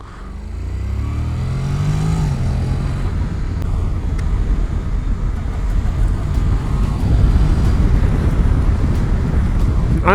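A Honda NC 700 S DCT motorcycle rides in sport mode, its engine rising in pitch as it accelerates, then holding a loud, steady drone mixed with heavy wind rush, close and continuous.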